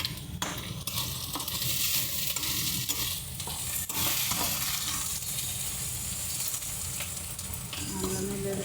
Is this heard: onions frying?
yes